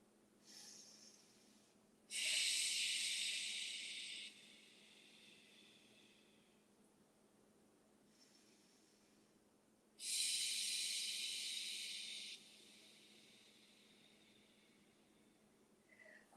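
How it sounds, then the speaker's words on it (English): Two long, slow breaths during a yoga practice, each a loud airy hiss lasting a couple of seconds, separated by quiet pauses, close and alone. "And breathe."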